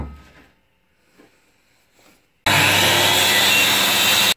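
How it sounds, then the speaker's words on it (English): A handheld circular saw on its quiet mode cuts wood for a sledge, bursting in abruptly at full, steady loudness after a near-silent stretch with a few soft handling knocks, then whining continuously up close. "All right, so I've got my handheld circular saw."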